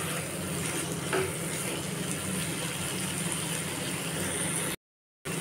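Tomato, dried red chilli and turmeric frying together in a pan for a chickpea curry, a close, steady sizzle with light stirring scrapes, nearly constant before a short silent gap.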